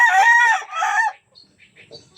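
A chicken crows loudly and close in two long bursts, followed by a few faint clucks and scratchy sounds.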